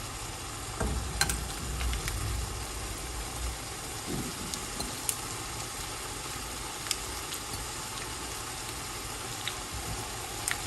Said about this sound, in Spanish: Ahora en el sartén vamos a agregar nuestras salchichas.